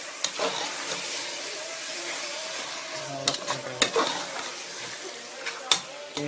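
Mutton, gravy and yogurt are stirred together in a hot pot for dum biryani, a soft sizzle under repeated clinks and scrapes of a ladle against the metal, with sharper knocks now and then.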